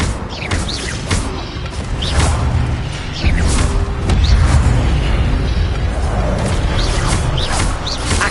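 Incendio fire spell cast in Hogwarts Legacy on PS5: a loud whooshing burst with booming, crackling flames, followed by a dense rumbling blast that carries on steadily to the end.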